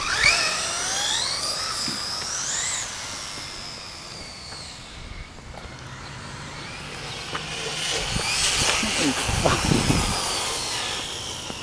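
A Traxxas Slash 4x4 Platinum RC truck with a Mamba Monster system on 5S lipo and buggy tires runs at half throttle, its motor whining in rising and falling sweeps with hissing tire and gravel noise, close by.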